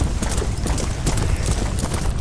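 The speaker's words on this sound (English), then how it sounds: "I think that's your old horse." Horse hooves clip-clop in a steady, close rhythm in the video game Undead Redemption, set against a dense, noisy background with no voices.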